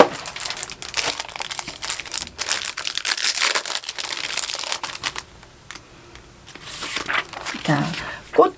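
Green paper crinkling and rustling as it is folded into the calyx of an origami carnation, with bursts of crisp handling close up and a voice speaking between them.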